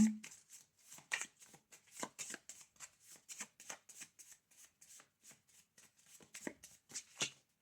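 Homemade tarot cards are shuffled in quick, repeated riffling bursts that keep an even rhythm, close and fairly quiet, with no speech over them.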